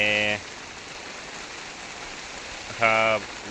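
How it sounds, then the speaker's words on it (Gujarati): Steady rain hiss on a farm with a horse shed, with two short harmonic voice-like tones near the start and end over the constant downpour. "વરસાદ ચાલુ છે હું પોતે પલળી જઈશ"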